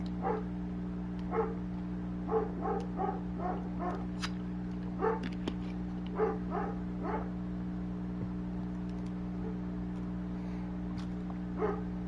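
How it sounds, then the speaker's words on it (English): A dog barks repeatedly in the room in short clustered bursts over a steady fan hum, fairly close and moderately loud, with a lone bark near the end. "it's the barking that you hear, not the fan"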